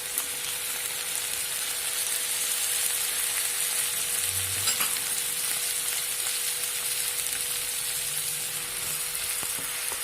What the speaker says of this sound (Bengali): রসুনটা একটু নেড়ে নিয়ে পেঁয়াজ বাটাটা দেয়া হচ্ছে।